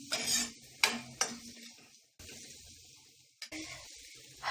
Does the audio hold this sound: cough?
no